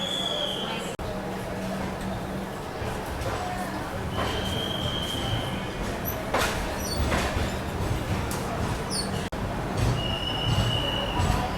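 The Udyan Express pulls out of a station on the Bengaluru to Mumbai line, wheels squealing in high drawn-out tones over a steady rumble and clatter of rail cars.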